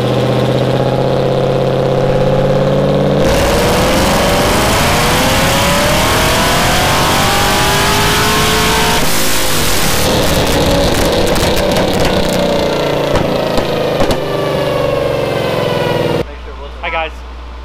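A Chevrolet Camaro ZL1 engine revs hard on a dyno, a loud sustained roar climbing in pitch through a long pull and then cutting off abruptly near the end, with voices faintly audible beneath it.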